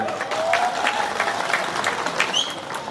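An audience at a political gathering in Tripura bursts into a dense, steady wash of applause that carries evenly through the moment.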